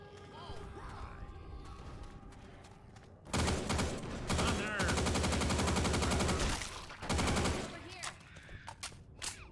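Assault rifle fire in Left 4 Dead 2: after a stretch of quieter game ambience, a loud sustained automatic burst roars for several seconds, pauses briefly, then a shorter burst follows.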